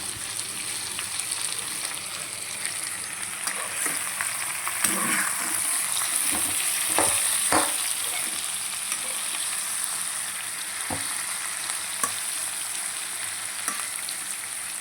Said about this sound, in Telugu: ఇవన్నీ బాగా ఫ్రై అవ్వాలన్నమాట ఇందులో మనం కరేపాకు వేసుకుందాం